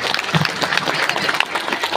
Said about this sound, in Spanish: Fuertes los aplausos.